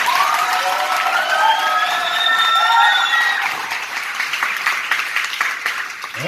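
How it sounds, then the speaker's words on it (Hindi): A church congregation applauds Pastor Babu Bhandari with loud, steady clapping from a crowd that fills the whole stretch, easing slightly toward the end. "दूसरी ताली आप प्रभु के दास पास्टर बाबू भंडारी के लिए अच्छे से बजा दीजिए"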